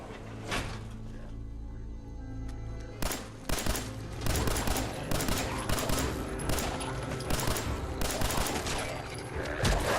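Explosive 10mm pistol rounds fire in Fallout 4, a rapid series of sharp, booming shots in uneven bursts, loud and close, over a steady low droning backdrop.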